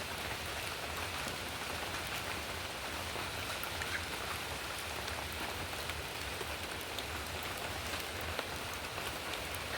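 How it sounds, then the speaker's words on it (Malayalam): Light rain falls steadily outdoors, an even, soft hiss of drops on surfaces that continues without a break and with no voices. "ചെറുതായിട്ടൊരു മഴയുണ്ട്"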